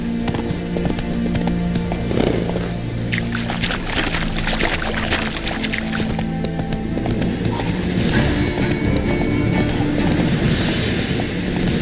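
Roach, the horse in the video game Witcher 3, gallops with loud, continuous, rhythmic hoofbeats up close, mixed with steady background game noise.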